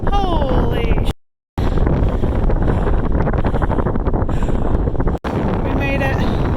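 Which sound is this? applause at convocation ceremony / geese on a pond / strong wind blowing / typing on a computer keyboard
strong wind blowing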